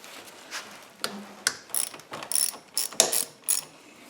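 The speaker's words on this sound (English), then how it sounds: "so we're going to loosen this with the T40" A ratchet wrench with a T40 Torx bit loosening a bolt during wheel removal on a Honda Goldwing F6B motorcycle, giving a series of close, sharp clicking strokes in an uneven rhythm, growing louder and denser toward the end.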